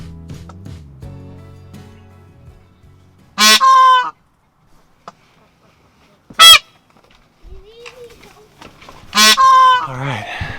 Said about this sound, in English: Did you hear those honks?